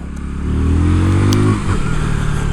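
A KTM Duke 160 motorcycle engine rumbles close by. Its deep, loud throb climbs a little in pitch as it revs, then drops back to a steady run, with no talking over it.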